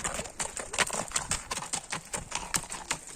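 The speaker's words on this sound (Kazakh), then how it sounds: "Туғандар, дағы бір аттарды көрсетеміз." Horse hooves clip-clop in a steady, brisk rhythm on a hard surface in Shamaldy-Sai, close and clear, with no talking.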